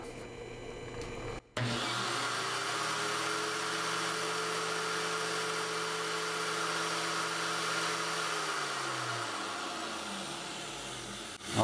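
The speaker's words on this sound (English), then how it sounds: "Now let's turn on the grinder and see what happens." An electric grinder powered from a BOLTR 2000W pure sine wave inverter switches on with a click and runs as a steady, loud whine and hum, then winds down toward the end as the motor slows.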